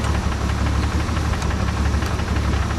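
A Jeep CJ7 engine idles steadily during a head gasket check, a close, continuous low rumble with an even mechanical knock and vibration running throughout.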